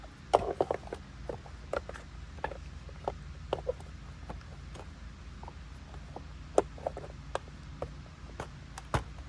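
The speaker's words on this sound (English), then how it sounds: "So now, go ahead and put this duct back on." Plastic clicks and light knocks come from refitting the duct on a clogged Oreck commercial vacuum, arriving as an irregular series of sharp taps over a quiet room background.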